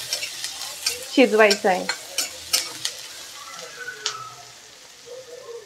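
Onions fry over a high flame in a pan until reddish, crackling with a few sharp scraping stirs; a voice talks over the cooking near the start.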